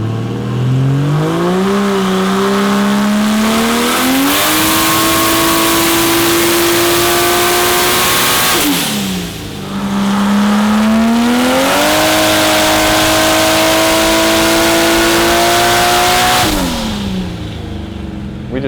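A turbocharged Nissan Patrol TB48 engine, built for over 2,000 horsepower, revs on a dyno in repeated loud pulls, the pitch climbing and holding before dropping off between runs.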